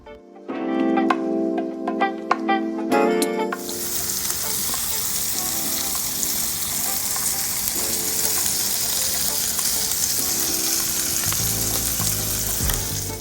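Smash burgers and mayo-spread buns on a hot grill give a loud, steady sizzle and crackle, with a few clatters and scrapes at the start before the frying settles into a continuous hiss.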